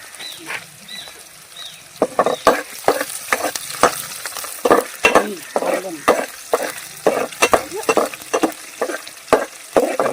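Curry leaves and green chilies frying in hot oil for raw jackfruit biryani, with loud spattering crackles and repeated sharp stirring clatters over a steady sizzle, close up and without speech.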